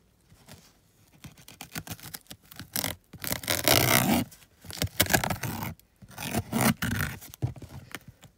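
Strong packing tape being torn and peeled off a cardboard parcel: bursts of loud, close ripping and scraping with crackly rustling between them, in a quiet room.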